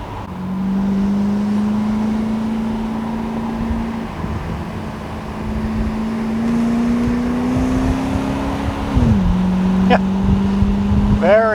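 A 1987 Mercedes-Benz 560SL with a European V8, Carobu Stage One tuning, drones steadily and climbs in pitch as it revs while driving, then drops abruptly near the end before settling into a steady hum.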